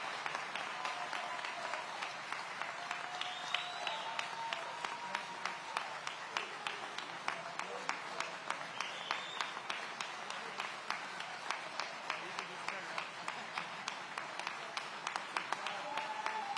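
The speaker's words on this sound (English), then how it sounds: "Give them a round of applause" Audience applause at a city public safety event in Aurora: sustained, fairly faint crowd clapping with regular sharp claps, a few voices and cheers faintly mixed in.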